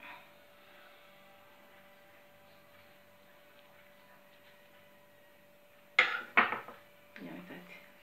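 A knife slicing through a zefir, an apple and cinnamon marshmallow, on a plate gives a few sharp clinks and scrapes against the dish, close and clear after a long quiet stretch with a faint steady hum.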